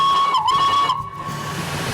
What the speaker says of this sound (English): you're going to blow the whistle